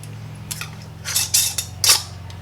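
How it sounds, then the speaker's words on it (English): Metal screw bands are turned onto lids of glass canning jars filled with homemade cranberry mustard, making a few short, close metallic clinks and scrapes in quick bursts against near silence. "we're going to apply our bands to fingertip tight"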